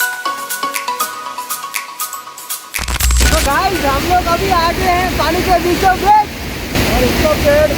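Rushing water in the middle of a river on a cold winter day, a loud steady broadband wash that rises sharply partway through, with a person talking over it and some wind noise.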